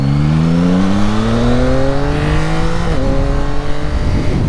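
A Yamaha MT-09 motorcycle accelerates hard, its engine note climbing steadily and loudly through the revs before a brief dip at a gear change, then rising again with no talk.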